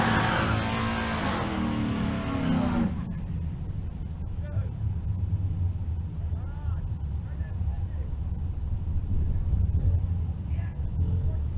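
Engine noise from a 1970 Plymouth Duster 340 and another drag car at the launch rolls on as a steady roar. Before it, a loud announcer voice and crowd noise fill the opening three seconds and then drop away.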